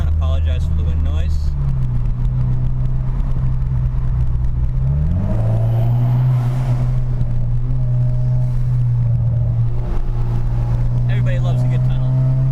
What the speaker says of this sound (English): Apologize for the wind noise.